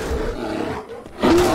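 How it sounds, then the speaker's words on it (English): A bear roars in the video game Skyrim, a loud, rough growl that dips briefly and then surges back louder, heard alone without talk. "Oh god, we got another bear."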